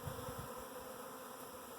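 A honey bee swarm settles in a front yard, giving off a faint, continuous insect hum that stays steady and distant throughout the short moment.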